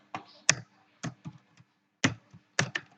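Scattered keystrokes on a computer keyboard, a handful of distinct close clicks in short bursts separated by quiet gaps.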